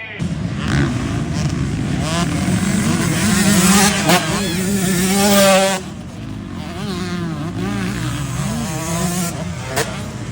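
A motorcycle engine runs steadily near the mic at a weekend event in Port-sur-Saône, droning loud and continuous with small rises and dips in pitch, easing somewhat after the midpoint.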